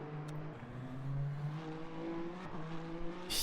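A Peugeot 908 race car in the Le Mans Ultimate racing game roars past, its loud engine note holding steady with shifting pitch sweeps for several seconds before fading.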